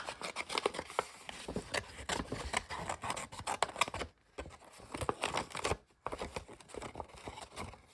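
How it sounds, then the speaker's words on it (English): Scissors cutting paper pages out of a hand-stitched keyhole book, close rapid snips and crisp crinkling in bursts, with two brief pauses. "again I will cut this out, and I will cut both pages out"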